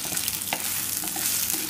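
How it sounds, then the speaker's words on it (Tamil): Onions sauté in a pan for a Tamil yam curry until golden, giving a dense, steady close-up sizzle with faint stirring scrapes and no talking. "இப்போ இந்த வெங்காயம் நல்ல பொன்னிறமாக வதங்குற வரைக்கும் நம்ம வதக்கிக்கலாம்"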